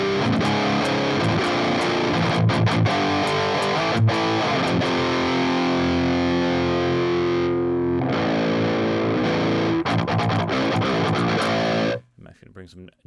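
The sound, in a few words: electric guitar through Boss Overdrive distortion pedal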